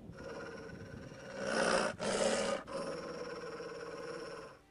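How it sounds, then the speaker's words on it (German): A dog in The Witcher video game growls low and rough, a sustained rumble that swells and breaks twice before settling into a steady growl over a humming game background. "Dieser Hund scheint nach etwas zu suchen."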